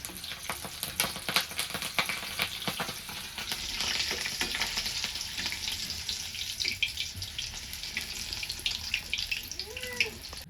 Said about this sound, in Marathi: ह्याच्यावर खाण्यासाठी एक चार हिरव्या मिरच्या मी तेलात टाकून घेते